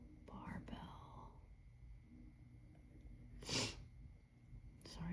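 A sharp, close sniffle breaks through quiet whispering, followed later by another short sniff.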